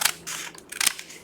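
A paper envelope is trimmed shorter with scissors: two quick, crisp snips close by, with no talking.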